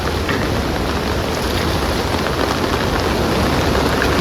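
Heavy rain falls steadily and densely on a flooded creek, a continuous loud hiss with no breaks.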